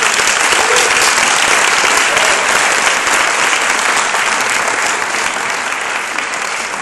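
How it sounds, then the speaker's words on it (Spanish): Loud, dense applause fills a conference hall as the audience welcomes a speaker on social aesthetics, sustained evenly for several seconds. "Pido un aplauso"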